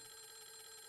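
Telephone ringing in the horror video game Clock Tower -The First Fear-, a faint steady electronic bell tone lasting about a second, heard alone.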